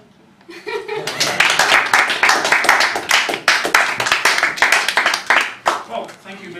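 Loud audience applause fills the room, dense clapping swelling and holding steady with a few chuckles mixed in before tapering off at the end.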